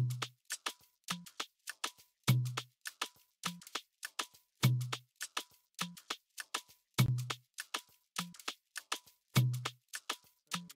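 A metal percussion sample from an Afrobeat pattern built in Ableton Live plays a tight, looping rhythm of short bright hits alongside deeper thumps, repeating evenly with clean silence between strikes.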